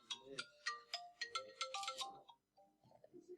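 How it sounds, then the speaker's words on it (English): Mobile phone ringtone going off in a classroom: a loud, close melodic electronic tune of bright rising notes, trailing off into quieter tones. "That was my phone going off."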